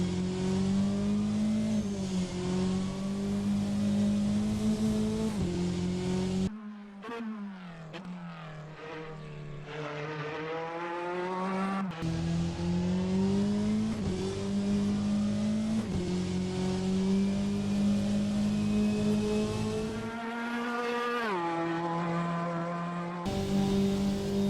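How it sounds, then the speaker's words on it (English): An IMSA sports car engine in the rFactor 2 racing game, heard from the cockpit, loud and continuous, revving up through the gears with sharp drops at each shift. "The interior sounds of this car sound really nice."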